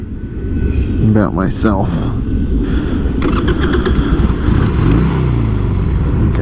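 Carbureted 2003 Harley-Davidson Sportster 883 starting up and settling into a loud, close, rumbling idle that holds steady throughout, with a brief word spoken over it.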